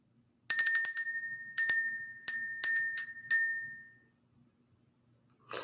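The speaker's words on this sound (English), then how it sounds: "Let's ring the bell." A small bell rung repeatedly to clear the energy, a cluster of quick bright rings followed by several single strikes with ringing decay, close and clear over silence.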